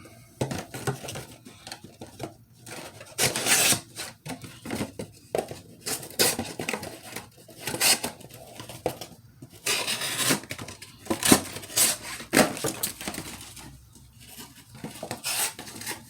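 A knife pushed straight down through firm board material, giving a string of close, dry crunching and scraping strokes in uneven bursts, with no voices.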